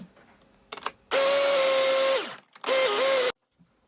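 An electric kitchen blender chops pepper and parsley in two loud whirring bursts, the first longer with the motor winding down, then a shorter second pulse, close and without talk.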